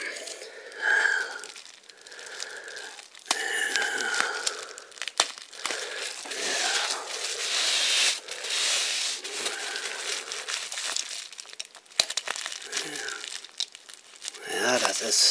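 A sketch artbook, Storm – Das Vermächtnis by Don Lawrence, is unpacked with long stretches of close crinkling and tearing of packaging, rustling steadily throughout, with a person speaking over it.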